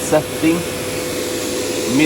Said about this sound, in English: this vacuum cleaner is sucking so hard so it almost gets stuck in the floor